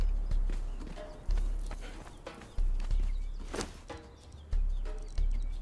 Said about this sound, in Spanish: Esto es el establo de caballos.